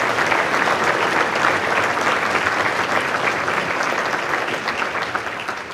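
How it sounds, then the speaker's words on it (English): Sustained audience applause at a planetarium conference awards ceremony, dense and even clapping from a large crowd that holds steady throughout and eases slightly at the very end. "Another round of applause, please."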